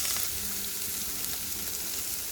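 Boiled spinach frying in a pan with garlic, onion, chilli and dried shrimp gives a steady, dense sizzle that holds at an even level throughout, with no voices over it.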